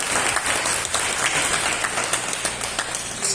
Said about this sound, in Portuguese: Um aplauso ao Senhor.